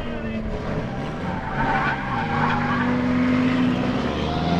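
A drift car skids past nearby with loud squealing tires and a revving engine, the screech rising and holding steady for several seconds.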